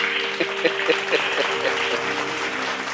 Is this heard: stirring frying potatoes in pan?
no